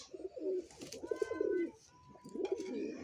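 Pet pigeons coo in low, throaty rolls, two or three phrases with a short pause between, quiet and close, with no talking.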